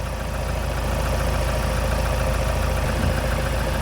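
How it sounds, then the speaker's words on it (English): A Ford Transit engine runs loud and close, held at a steady elevated rev with a constant droning roar and slight rough knock, no talk over it. "as I rev the engine"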